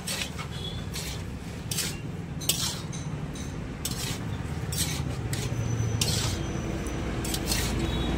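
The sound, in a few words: stirring rice in a cooking pot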